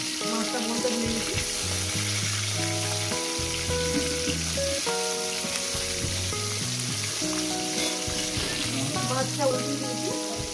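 Silver carp pieces fry in a pan of hot oil with a steady, loud sizzle and popping throughout, plus occasional stirring and utensil clinks and no speech.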